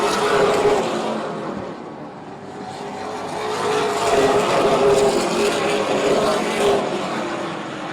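Super Late Model stock cars race on an oval track, a loud continuous engine roar that swells and fades as the pack passes, with no talk heard.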